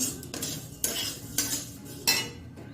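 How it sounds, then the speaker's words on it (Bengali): Vermicelli frying in a pan while being stirred: repeated scraping strokes of a utensil against the pan in bursts, over a soft sizzle, fairly close and moderately quiet. "সিমুইটা আগে ভালো করে ভেজে নিচ্ছি"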